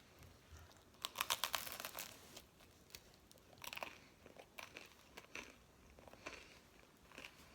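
Someone bites into crunchy homemade whole-wheat sourdough bread with butter, crisp loud crunches in bursts followed by quieter close chewing, no talk.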